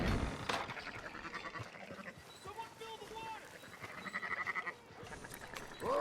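Several sheep bleat at moderate distance in Red Dead Redemption 2, overlapping one another, mixed with a voice and scattered movement sounds.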